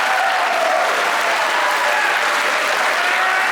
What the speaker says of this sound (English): That is the type of forced, fraudulent crowd response